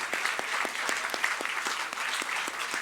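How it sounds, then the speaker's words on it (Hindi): A standing ovation for a flute performance at a literature and art festival in Bhopal, steady dense clapping from the audience with a few sharper nearby claps standing out, moderately loud and unbroken. "I think we all must surrender with a standing ovation to him"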